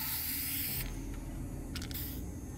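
Spray paint in a video game, a steady hiss that cuts off briefly and then returns in short bursts, loud and close with no voices.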